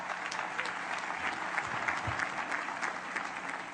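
Graduates at a university commencement ceremony applaud themselves, a steady, dense wash of clapping that holds evenly throughout with no speech over it.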